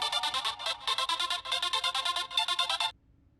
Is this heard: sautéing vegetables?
no